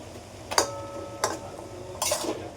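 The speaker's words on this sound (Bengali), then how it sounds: "আদা বাটাটা দিয়ে একটু নেড়ে চেড়ে" Ginger paste being stirred into Bengali lau ghonto, a bottle gourd curry with snakehead fish head, in a pan: three close, distinct spoon-against-pan clinks and scrapes spaced about a second apart, with no talk.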